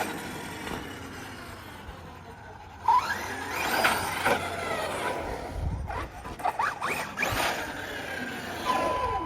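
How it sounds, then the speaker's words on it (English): A Losi DBXL E 2.0 RC car, rebuilt after fire damage and running big front tires with belted rears, whines and rattles as it drives off a curb, its motor surging after a quieter stretch, with no talking. "Let's see if we can take it off a curb."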